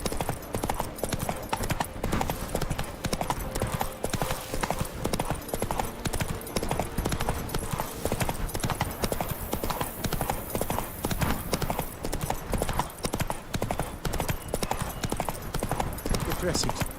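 Geralt's horse Roach galloping in The Witcher 3, a fast continuous clip-clop of hooves, close and steady, with a voice speaking over it.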